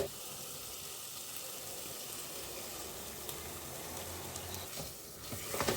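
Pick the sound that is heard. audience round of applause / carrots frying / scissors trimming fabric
carrots frying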